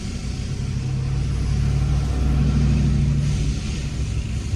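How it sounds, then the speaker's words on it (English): A car driving past from behind on a residential Beverly Hills street, a steady low engine rumble and road roar that swells slightly in the middle and then eases, heard from inside a moving vehicle. "I'm gonna let this car behind me go by."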